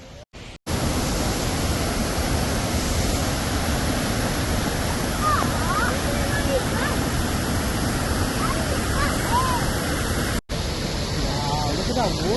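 Waterfall at Ingleton, a steady, loud rush of running water that fills the whole clip, with brief dropouts near the start and around ten seconds.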